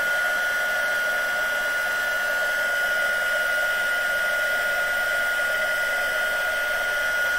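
A heat tool for craft embossing blows a steady, close whirring hiss with a constant high whine, running without pause or change in pitch.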